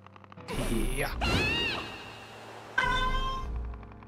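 A cat meows a few times, clear and near, rising and falling cries with brief gaps between them, while a person talks in the background.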